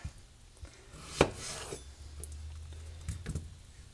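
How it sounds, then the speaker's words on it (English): Knife slicing the ends off fresh garden cucumbers on a cutting board, a few quiet, scattered cuts and taps with soft rubbing sounds, close but faint. "I always cut the ends off because they can be bitter."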